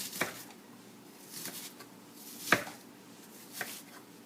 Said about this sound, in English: Let's give this a little bit of a rough chop.